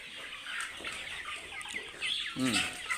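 Broiler chickens on a poultry farm cluck steadily in a continuous flock murmur, with one louder, nearer call rising near the end.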